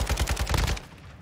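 A rapid burst of video-game gunfire on Ashika Island, about eight loud, close shots in quick even succession that stop abruptly, leaving a short fading tail.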